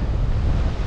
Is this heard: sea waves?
yes